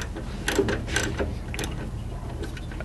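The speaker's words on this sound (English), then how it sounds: "now I'll put the wrench back on it." A wrench snugging a carburetor jet on a classic VW Beetle, a few close metallic ratcheting clicks and scrapes in short bursts over a low background hum.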